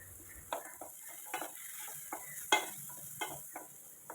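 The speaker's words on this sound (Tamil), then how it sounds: "வெங்காயம் பாதி வதங்கினதும் கொஞ்சம் முந்திரி, இஞ்சி பூண்டு சேர்த்து நல்லா வதக்கி விட்டுக்கலாம்." A spatula stirs onions with cashews, ginger and garlic sautéing in a pan, with a soft sizzle under repeated scraping strokes roughly every half second, close by and without talk.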